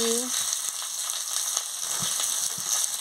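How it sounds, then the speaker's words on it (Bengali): Gima greens frying in a pan with turmeric and salt give a steady, close sizzle throughout, with a few soft stirring scrapes and light knocks along the way. "দিয়ে ভালো করে ভেজে নিচ্ছি"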